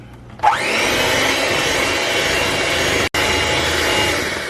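An electric mixer starts up and runs steadily through Oreo cheesecake batter, a loud close whirring drone that briefly cuts out once before continuing.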